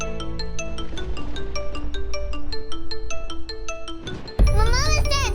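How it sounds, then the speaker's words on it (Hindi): Mobile phone ringtone playing a repeated electronic melody of short bright tones, loud and close, cut off near the end by a child calling out. "मम्मा मिस्टर हैंडसम का फोन"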